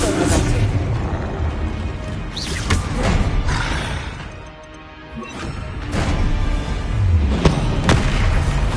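Bombarda spell explosions go off in Hogwarts Legacy combat, several loud booming blasts and crashes spread over the stretch, with a brief quieter lull in the middle.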